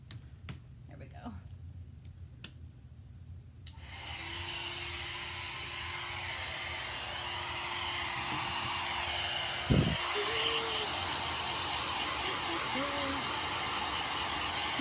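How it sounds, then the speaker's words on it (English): A steady hair dryer whooshes on after a few seconds and keeps running, with a brief clatter partway through. "I need to dry it, but my dryer's not plugged in."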